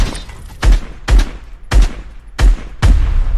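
Gunshots in the Fortnite video game, five loud, punchy booming shots with short tails at a steady rhythm of about one every 0.6 seconds, close and prominent with no talk.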